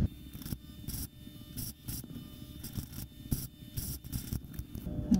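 Scissors snip through decorative fabric edging for scrubs up close, a series of quick, crisp cuts in an uneven rhythm with soft rustling of cloth between them.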